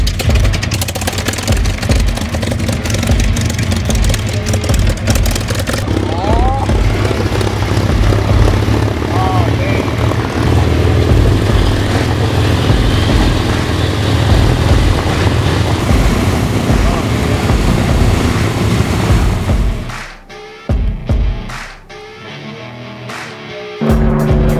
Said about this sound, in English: There is the P-51 Mustang.